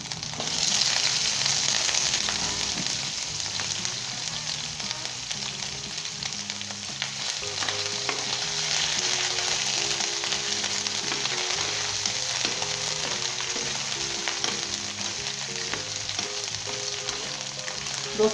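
Mutton pieces frying in a pan of oil for Bengali gosht curry, a loud continuous sizzle and spatter with a faint tune running underneath, no talking.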